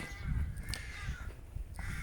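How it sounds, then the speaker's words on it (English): Several crows caw at dawn beside a pathway at the ancient Hill of Tara, repeated harsh calls at middle distance over a steady outdoor hum, with no talking. "the crows are making themselves heard"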